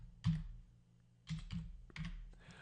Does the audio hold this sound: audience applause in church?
no